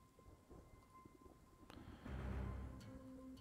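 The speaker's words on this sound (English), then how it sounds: "Okay, so now it's not snowing, it's raining." Rain patters steadily in the World War II strategy game Panzer Corps 2, and a deep rumble of thunder swells partway through and lingers under the downpour.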